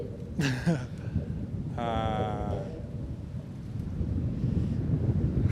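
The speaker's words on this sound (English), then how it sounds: "it's pretty windy" Low wind rumble buffets the microphone continuously outdoors on a canoe trip, with a couple of brief vocal cries or calls near the start.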